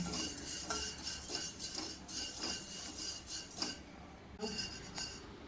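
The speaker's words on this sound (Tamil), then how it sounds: "இதையும் நல்லா ட்ரை ரோஸ்ட் பண்ணிப்போம்" White flattened rice (thick aval) dry roasting in a pan, with a spoon scraping and stirring against the metal in repeated strokes, close and fairly quiet, with no talking.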